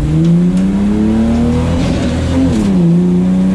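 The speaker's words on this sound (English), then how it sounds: "My motor started like misfiring really, really bad." A car engine in the Mustang-style 'Poestang' misfires while driving, a loud, rough, uneven drone with the pitch rising and dipping, close to the listener and with no one talking.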